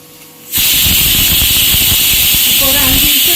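Pressure cooker hissing loudly with steam on a full flame while mutton cooks, a steady venting rush starting abruptly after a brief quiet moment and continuing unbroken, with some faint clatter beneath.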